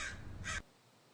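A large crow caws twice in quick succession, short harsh calls close by and fairly quiet, then silence.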